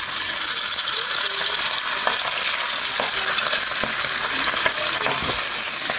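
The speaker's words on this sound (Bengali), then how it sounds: "এখন মাছগুলো ভেজে নেব আমি একটা একটা করে।" Fish pieces fry one by one in hot oil on a gas cylinder stove, giving a loud, steady, crackling sizzle close up, broken by occasional clicks and scrapes of a utensil, with no speech.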